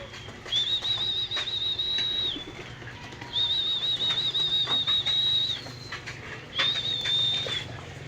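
Released pigeons in flight give a high, steady whistling tone that repeats three times in long sustained bursts over faint outdoor background noise.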